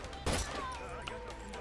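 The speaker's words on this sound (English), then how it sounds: "Lone, fantastic double headshot." Gunfire in a competitive 1v1 video game tournament match, a quick loud burst of shots near the start followed by fainter game sounds and a brief distant report.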